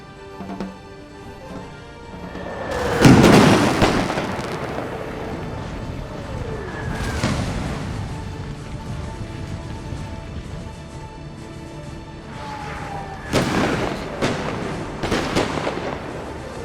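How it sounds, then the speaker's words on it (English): Artillery barrage in the video game Napoleon Total War, American Civil War mod, with several loud booming blasts spread across the stretch and distant rumbling and whistling between them, on a steady battlefield background. "Ooh, artillery, barrage, hell. That's what I'm going through."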